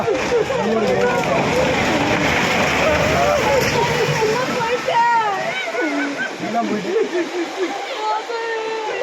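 Roaring floodwater rushing through central Tirunelveli as a house is swept away, a loud continuous torrent with splashing, with people shouting and talking over it throughout.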